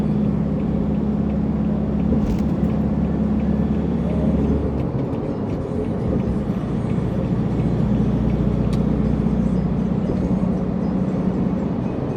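A car drives through road traffic toward Pasay and Baclaran, its cabin filled with a constant loud engine and road hum, a low drone shifting partway through as traffic noise carries on steadily.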